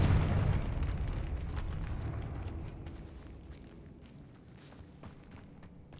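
A Confringo fire spell blast in Hogwarts Legacy, a loud deep boom at the start that decays into a rumbling, crackling tail, fading steadily over several seconds.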